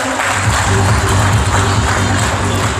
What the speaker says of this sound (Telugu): ఒకసారి అందరూ క్లాప్స్ కొట్టాల్సిందిగా కోరుతున్నాను